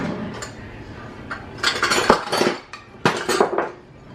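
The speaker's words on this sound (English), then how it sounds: "I'm gonna start by mixing my wet ingredients in this bowl" Wet ingredients for baked oatmeal are mixed in a bowl at home, giving close clinks and scrapes of a utensil against the bowl in two short bursts, alone with no talk.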